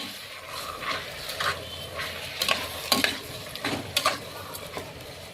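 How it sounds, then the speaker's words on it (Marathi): Washed rice being stirred and sautéed in a pot for chicken biryani: a steady soft sizzle broken by repeated scraping, clinking strokes of a utensil against the pot, close and alone. "धुवून घेतलेलं राईस मिक्स करा आणि परतून घ्या।"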